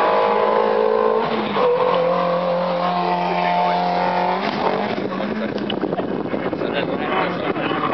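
A small race car at a hillclimb at Alford, driving fast toward the grandstand, its engine drone rising as it nears, heard under continuous commentary.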